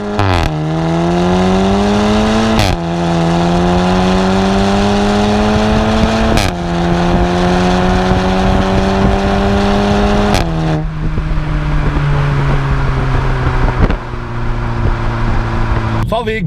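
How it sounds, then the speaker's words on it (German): VW Golf 7 GTI TCR with a flap exhaust accelerating hard from 0 to 100, its loud engine note rising through the gears with sharp cracks at each shift, close up, with one brief spoken word. "Jetzt machen wir eine von 0 auf 100 GoPro-Aufnahme mit Schubknallen."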